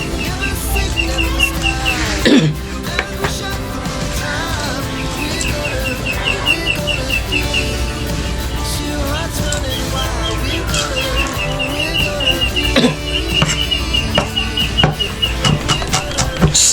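Chickens cluck and call around a household, a steady mix of bird sounds layered over constant background noise throughout.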